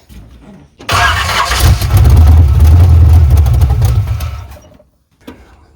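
A Chevrolet C10 pickup with a 383 engine cranks and fires, then roars loudly and close with revving for about three seconds before cutting out, leaving near silence and a faint voice.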